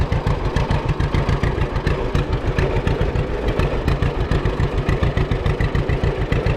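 An International 720 tractor engine runs steadily at a threshing bee, a loud, close mechanical chug with an even rapid pulsing beat and clatter throughout.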